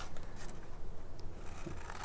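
Small scissors snipping through card along score lines while making slimline greeting cards, quiet close-up cuts with faint crisp snips against a soft room background.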